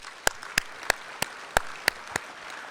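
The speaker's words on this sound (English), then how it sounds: "let's give them a round of applause" At an awards reception for hot rod enthusiasts, a few people clap for a sponsor: sparse, sharp, individual claps spaced unevenly, close and crisp, rather than a full ovation.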